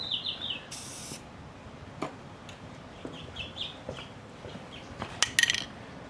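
Spray paint hisses from an aerosol can outdoors in short bursts while motorcycle parts for a GS550 cafe racer get stripes, with chickens clucking faintly in the background.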